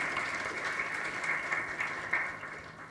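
An audience at a research conference session applauds to thank a panel, a fairly quiet, even patter of many hands heard from a distance in a large room.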